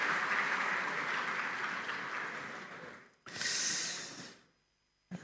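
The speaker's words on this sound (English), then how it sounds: "A round of applause for them again" Audience applause at a national Democracy Day symposium: a broad, steady wash of clapping that fades after three seconds, then a second short loud burst before dropping to near silence.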